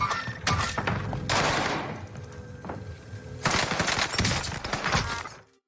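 Gunfire shooting through a wall in Fortnite: rapid bursts of automatic fire, one long burst, a brief lull with a single shot, then another sustained volley that cuts off abruptly.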